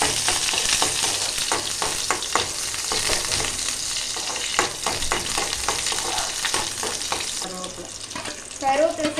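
Small shallots and mustard seeds frying in hot oil, a dense continuous sizzle broken by irregular crackles and pops, loud and close, with stirring scrapes near the end.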